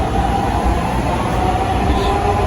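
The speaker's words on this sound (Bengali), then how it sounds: "এই ট্রেনটা এখন আবার ছুটে চলবে উত্তরার দিকে ইতিমধ্যে ছেড়ে দিয়েছে ট্রেনটা" A Dhaka metro rail train running toward Uttara gives off a steady, loud rumble and hum, heard from on board or close by, with no talk.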